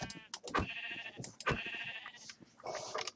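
Sheep bleating in Minecraft, a few wavering bleats in quick succession, close and clear with no talk.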